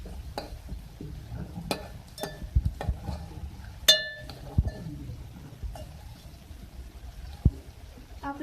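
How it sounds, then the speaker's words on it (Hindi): Onions for beef kalaji fried in a pan and stirred with a utensil, giving irregular clinks and scrapes against the metal over a soft low sizzle, close and moderately quiet with no talking. "आप इसको चला लेना ताकि हर तरफ से जो प्याज है वो ब्राउन हो।"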